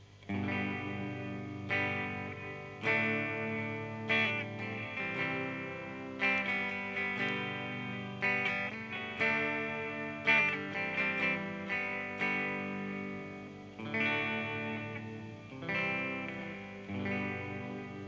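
Electric guitar run through an EHX Oceans 11 reverb pedal in reverse mode, with notes and chords swelling up and cutting off in repeating waves of washed-out reverb, played alone for about eighteen seconds.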